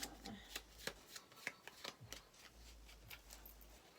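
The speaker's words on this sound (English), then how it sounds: "That was the first shuffle, this is the second shuffle." Tarot cards are shuffled close up, giving quick papery riffles and soft taps in an uneven rhythm, alone and fairly quiet.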